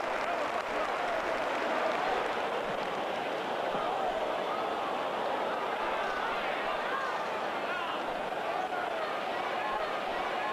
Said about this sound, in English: Superb crowd reactions.